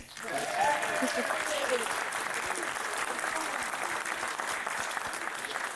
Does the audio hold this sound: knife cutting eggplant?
no